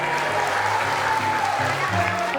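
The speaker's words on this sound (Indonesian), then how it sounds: "Tepuk tangan dong." Audience applause at an impromptu stage show, a steady wash of clapping from a crowd throughout, fairly loud and close with faint murmuring underneath.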